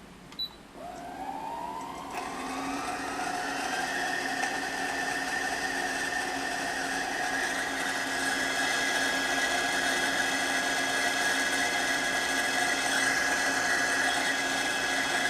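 A Brother PE 770 embroidery machine winding a bobbin: a motor whirs up over the first two seconds, then holds a steady high mechanical whine, close and continuous, with no voices.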